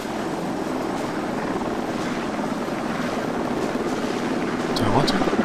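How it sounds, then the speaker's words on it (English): An enemy British helicopter in the Arma 2 video game flies slowly nearby, its rotor producing a continuous, dense, moderately loud drone with no breaks. "one of the enemy British helicopters ends up flying slowly to my front"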